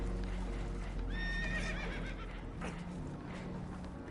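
Spooked horses in the video game Red Dead Redemption 2 neigh in a shrill, wavering whinny, with hoof clatter and a low rumbling background underneath, heard at moderate distance.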